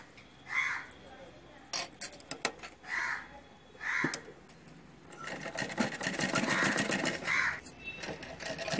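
A sewing machine stitches a sleeve in short bursts early on, then runs in a longer, steadier whirring stretch toward the end, fairly faint, with crow caws and brief speech between the runs.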